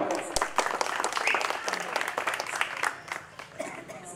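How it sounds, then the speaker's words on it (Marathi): A crowd at a campaign rally claps for a candidate, a short burst of dense applause at moderate distance that tapers off toward the end. "सर्वांनी जोरदार टाळ्या वाजवायच्या संतोष भावासाठी"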